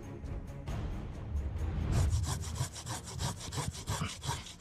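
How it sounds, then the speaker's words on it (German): A hand saw cuts through wood outdoors among trees in the wilderness, moving in steady back-and-forth strokes that turn rougher and more rhythmic partway through. The sound is close and fairly quiet, with no talking. "Wie die da durchgeht, die Säge"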